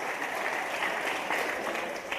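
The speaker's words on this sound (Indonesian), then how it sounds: "Nah yang ini boleh tepuk tangan." Steady applause from an audience at an Islamic lecture, a continuous wash of clapping at moderate distance with no pauses.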